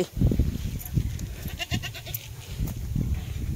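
Goats resting among stones under a neem tree bleat repeatedly in short wavering calls, close and loud over a steady rustling outdoor background, with a few high chirps and no speech.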